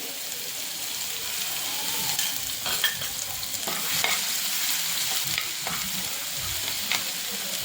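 Asafoetida, cumin and a ginger-garlic-green-chilli paste sizzle steadily in hot oil, a continuous close frying hiss broken by a few soft stirring scrapes throughout.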